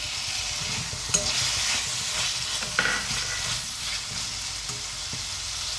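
Sliced onion and chopped tomato sauté in a pan for a soya bean curry, giving off a soft, steady sizzle while a spoon scrapes and stirs through them now and then, with no voices.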